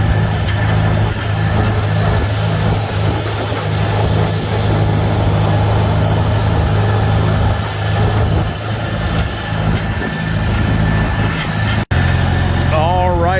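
A Farmall Super C tractor runs steadily in gear, its engine giving a continuous low, even drone with a gear whine underneath and no knocking or chatter, with someone talking over it.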